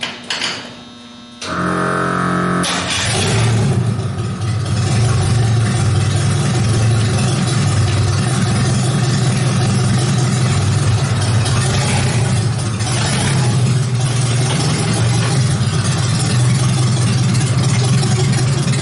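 A supercharged Mercruiser 2.5 liter engine in a Briggs-bodied T-bucket hot rod starts and then runs with a loud, steady, rough droning rumble close by for the whole stretch.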